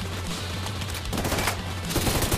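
Sustained automatic gunfire in The Division 2, a dense rapid stream of shots that pounds on without pause, loud and close, with heavier bursts toward the end.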